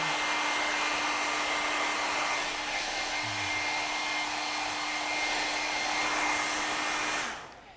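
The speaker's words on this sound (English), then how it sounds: "blow out the excess" A strong, steady rush of blown air clears excess plaster out of a latex eyeball mold, a continuous close hiss with a faint hum running through it for several seconds before cutting off.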